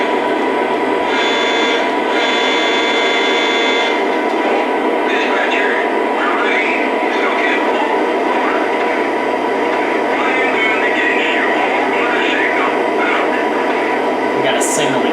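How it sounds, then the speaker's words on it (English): A continuous mechanical rumble and hum of a model train running on layout track, with faint rattling and clicking throughout and a voice speaking over it. "Let's get this train moving."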